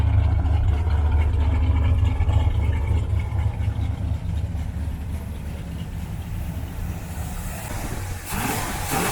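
A Pontiac GTO engine with an upgraded carburetor idles close by, a steady deep rumble with a loud low throb throughout, brightening into a harsher roar near the end.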